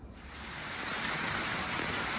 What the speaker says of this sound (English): it's raining and it's nighttime